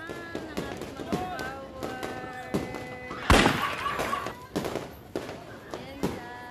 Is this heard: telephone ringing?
no